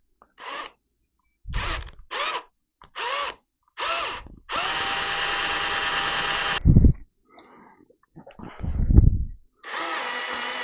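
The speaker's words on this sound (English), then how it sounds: "Something makes me think that this drill chuck isn't running true." An electric drill with a chuck not running true whirs in several short bursts, then runs steadily for a couple of seconds, with knocks and handling noise between spins.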